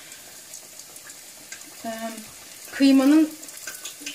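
Tatar börek (belyash) dough parcels filled with minced meat frying in oil in a pot, giving a soft steady sizzle beneath a person speaking nearby.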